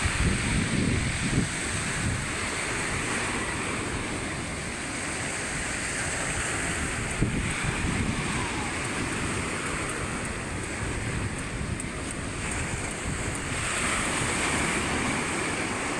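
Steady roar of monsoon surf crashing against a seawall, continuous and fairly loud, with gusting wind buffeting the microphone throughout.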